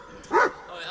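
A single short dog bark or yip, nearby and fairly loud, in an underground tunnel, with voices around it.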